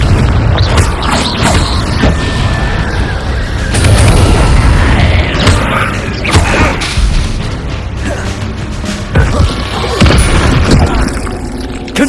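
Confringo blasting-spell explosions in Hogwarts Legacy boom and crash one after another amid combat clatter, loud and dense throughout, with a few faint voice fragments mixed in.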